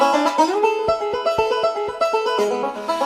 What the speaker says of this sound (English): I've played some virtual banjo on this, which again gives it that more country flavour